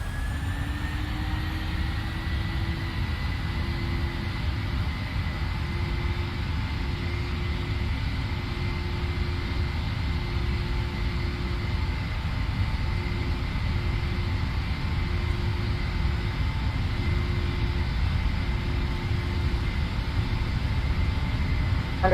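Airliner jet engines spooling for a rolling takeoff in the Prepar3D flight simulator on departure from Kathmandu, a steady loud roar with a sustained whine, continuous and unbroken for over twenty seconds.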